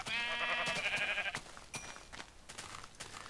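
Sheep bleating in the Minecraft video game, a loud wavering bleat at the start followed by quieter clicks and scattered game sounds.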